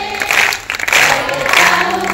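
Congregation clapping hands together during a Christian Odia sermon, producing a dense, steady wash of applause that carries on throughout with slight swells.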